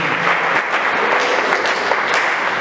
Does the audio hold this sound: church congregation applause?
yes